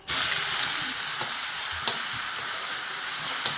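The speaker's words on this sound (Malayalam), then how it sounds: "ഇനി കടുകിട്ട് കൊടുക്കുക." Mustard seeds hit hot oil in a pan, a loud, steady sizzle with a few sharp pops and crackles standing out over the constant frying hiss.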